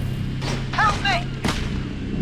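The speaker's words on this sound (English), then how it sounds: "Get those guns blazing." Bursts of gunfire in the video game Jak 3, a few sharp blasts and a thud in quick succession amid game sound effects, with faint voices in the background.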